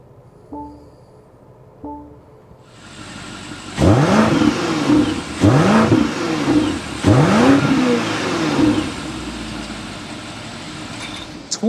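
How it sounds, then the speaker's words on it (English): An engine fires up, then the twin-turbo V8 of a 2024 BMW X5 M60i revs sharply three times in quick succession, its exhaust roaring loudly before settling to a steady idle. "start it up so you can hear that exhaust note"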